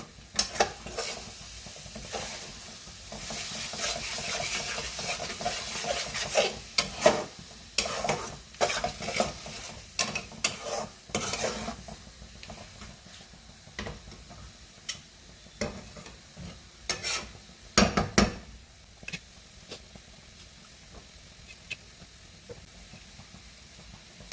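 Chicken kosha masala slowly sautéed in a pan, with continuous spatula stirring and scraping over a steady sizzle and hiss. The scrapes are close and frequent, and no one speaks.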